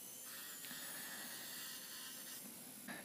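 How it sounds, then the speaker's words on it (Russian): A rotary tool with a carbide metal cutter milling an elliptical shape in fiberglass sheet, a steady high-pitched whining grind with slight changes in load, quiet and continuous, no talking. "Форму под эллипс выбираю при помощи твердосплавной фрезы по металлу."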